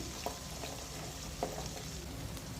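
Onion, garlic and curry leaves sauté in a pan with a steady soft sizzle, joined by a few light clicks of stirring, close and continuous with no talk.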